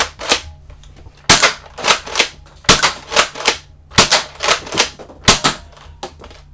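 Repeated sharp snapping shots from a repaired Nerf Elite 2.0 Warden dart blaster, fired in quick bursts of two or three with short pauses between, loud and close with a mechanical clack on each shot.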